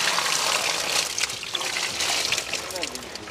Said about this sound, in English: so let us throw off the water